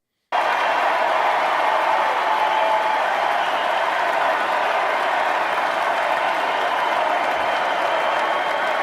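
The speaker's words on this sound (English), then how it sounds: "And the boy get a big round of applause." A large crowd gives a sustained, dense round of applause for a boy at a rally with President Trump, steady loud clapping from many hands without pause.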